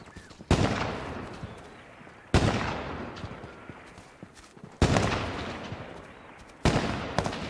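Four loud, sharp gunshots from an H1Z1 battle royale match, each cracking out at roughly two-second intervals and trailing off in a long echoing decay.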